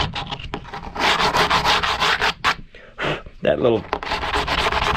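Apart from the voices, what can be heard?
sanding a carbon fiber kayak repair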